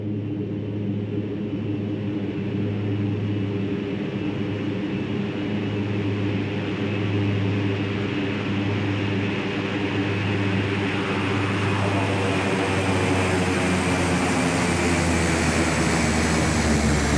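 Steady, loud aircraft engine drone from the X-Plane 11 flight simulator, a continuous propeller-and-engine roar with a constant low hum that holds unbroken for about seventeen seconds, with no voices.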